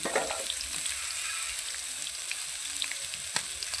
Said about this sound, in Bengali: এদিকে ভাজা হচ্ছে।